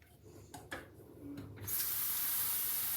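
Cold water from a kitchen tap begins running into a saucepan, a steady bright splashing hiss that switches on after a few soft knocks and handling sounds.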